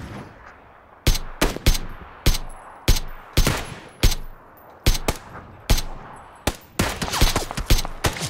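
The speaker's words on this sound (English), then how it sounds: "We're getting shot from somewhere else." Gunfire in the battle royale game PUBG: a long string of sharp, loud shots, some single and some in quick doublets or bursts, sounding close and steady over roughly seven seconds with no talking.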